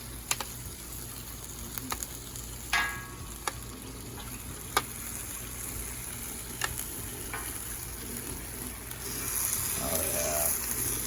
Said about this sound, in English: Just get a nice little sear going.